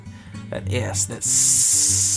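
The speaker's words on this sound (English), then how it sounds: "They're just going to lay down in there and start sizzling." Loud, steady sizzling of ribeye steaks searing in a hot pan, a bright hiss building and holding close up, with a few clanks at the start.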